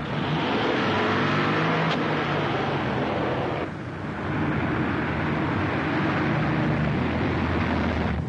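A 1940s car drives along tailing another car, its engine droning loud and steady with a brief dip midway before resuming.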